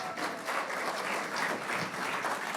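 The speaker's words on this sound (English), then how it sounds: "can we please have a round of applause for Arnie?" An audience gives a round of applause for a performer at a live spotlight show, dense steady clapping from a crowd running evenly throughout with no voices over it.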